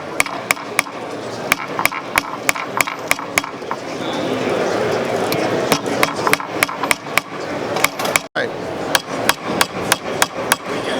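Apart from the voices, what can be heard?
nylon hammer doming a metal bracelet blank on a stake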